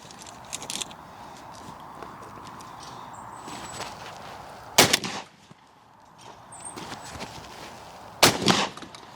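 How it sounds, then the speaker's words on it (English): Two sharp shotgun blasts, spaced a few seconds apart, ring out at outdoor clay target shooting, with faint rustling and movement between the shots. "Just going to shoot that to start with."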